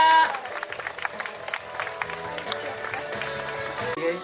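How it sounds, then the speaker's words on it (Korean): A gathering at an outdoor memorial site claps for the families being honoured, with scattered applause over background music and some voices. "이 아름다운 가족들을 위해서 뜨거운 박수 함께 해주시기 바랍니다"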